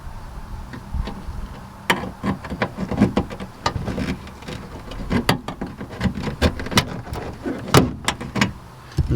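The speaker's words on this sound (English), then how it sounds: "I'm going to use this upholstery remover to take the clip out" An upholstery remover tool prying a clip out of a car's back-seat interior trim, giving a run of sharp plastic clicks, snaps and creaks at close range with handling noise between them, and no talk.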